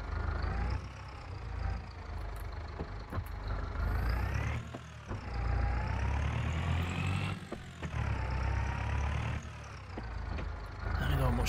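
A low-powered yard tractor engine drones steadily in the video game Farming Simulator 22, a loud, continuous rumble that rises and falls with the throttle.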